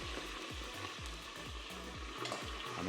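Fish sizzling and frying in a covered pan for Jamaican-style fish, a steady close crackle with regular low popping bursts roughly every half second throughout.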